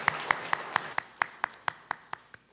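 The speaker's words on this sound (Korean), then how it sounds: "하나님께 영광의 박수 올려드립니다." Single person clapping steadily in a church sanctuary, about a dozen sharp, evenly spaced claps, close and clear, rather than full congregation applause.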